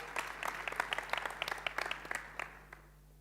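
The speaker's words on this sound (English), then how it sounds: "Let's give her a round of applause." An audience at a forum on displacement applauds, with a scatter of distinct hand claps that thin out and fade toward the end, fairly faint and heard from a distance.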